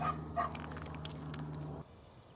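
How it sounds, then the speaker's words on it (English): A dog yips and whimpers a few times up close at an outdoor birthday party, over a steady low engine-like hum that cuts off near the end. "Well, the dog looks interested."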